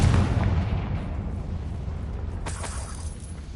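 A Confringo fire spell explodes in the game Hogwarts Legacy: a loud, booming blast that slowly decays, followed by a second, sharper burst near the end.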